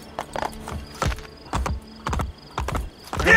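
A horse's hooves clip-clop at a steady walking rhythm in the Assassin's Creed Brotherhood video game, loud and close, with faint creaking in the background.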